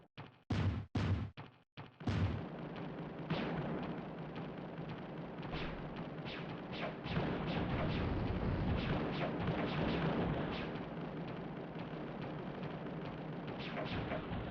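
A large laser attacks a fence in the SNES game Mega Lo Mania: a few sharp loud bursts at the start, then a sustained rumbling barrage of booming, crackling fire.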